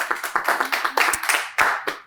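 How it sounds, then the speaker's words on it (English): Short burst of audience applause for a volunteer at a magic card-trick demonstration, a small group clapping irregularly at close range, with distinct sharp claps standing out near the end. "Give him a round of applause."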